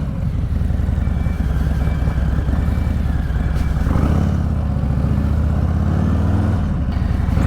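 Stage 4 Harley-Davidson Fat Bob V-twin engine running with the throttle lightly feathered, a loud, close, throbbing low rumble with gentle swells in revs and no voices.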